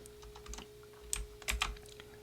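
A short run of soft computer keyboard presses while entering Photoshop shortcut keys: a few light clicks, then a quick cluster of taps, close and quiet over a faint steady hum.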